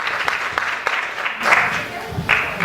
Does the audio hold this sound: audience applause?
yes